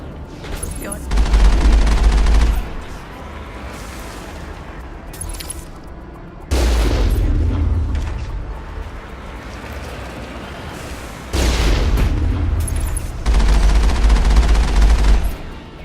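Sci-fi rifle bursts from the video game Mass Effect come in heavy, booming volleys separated by quieter stretches, loud and close, with a voice briefly heard among the shots.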